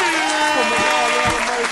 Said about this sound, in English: we got to clap it up one more